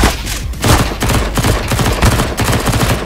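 Dense overlapping gunfire crackles through a CS:GO Danger Zone firefight, rapid bursts and single shots stacking into a loud continuous barrage with no voices.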